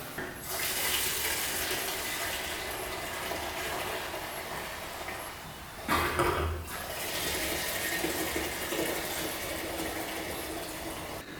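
Gasoline poured into the fuel tank of an old quad being revived, a continuous gurgling liquid stream that briefly surges and splashes midway before settling back to a steady pour, with no talking.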